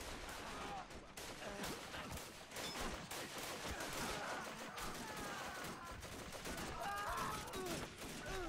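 A First World War video game battle fills the air with dense, continuous machine gun and rifle fire, a loud rattling barrage with overlapping bursts and no pauses.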